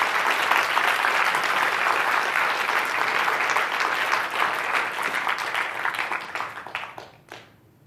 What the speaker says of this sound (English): So super round of applause for that